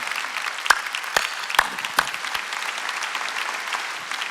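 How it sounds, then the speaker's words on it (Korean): A church congregation at an ordination service applauds, its steady crowd clapping punctuated by several sharp, louder nearby claps in the first two seconds before settling into an even patter. "네, 박수 쳐주세요"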